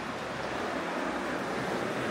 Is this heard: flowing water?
yes